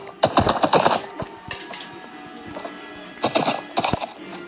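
Hooves of a horse clip-clop in quick uneven bursts, near and loud, with a gap between clusters and faint sustained tones underneath.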